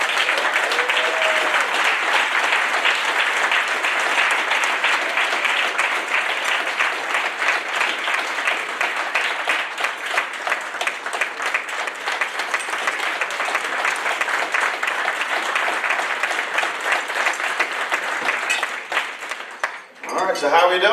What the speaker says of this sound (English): join me in giving a warm round of applause as we welcome onto this stage the esteemed journalist, author, and commentator, Mr. Roland Martin.